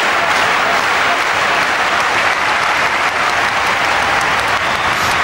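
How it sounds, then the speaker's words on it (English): Loud, continuous applause fills a tennis arena, with a dense roar of clapping and stamping on movable stands holding steady throughout at close range. "Literally thunderous applause here."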